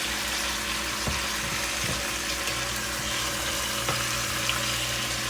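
Oxtails sear in a hot pan with a steady, close crackling sizzle, broken now and then by brief louder pops and a faint low hum, with no voices.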